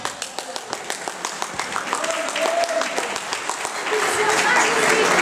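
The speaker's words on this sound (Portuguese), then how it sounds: "peço uma salva de palmas" An audience in Lugano gives a round of applause for a female collaborator at an anniversary and award ceremony, claps starting sparse and rhythmic, then swelling into denser, louder clapping, with faint voices and a few tones mixed in.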